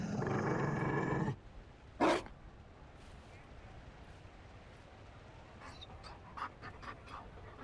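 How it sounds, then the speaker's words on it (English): A Mabari dog in Dragon Age: Inquisition pants in one quick burst after a short stretch of rough, breathy noise, followed by faint scattered clicks and small sounds in a quiet scene. "You found a dog?"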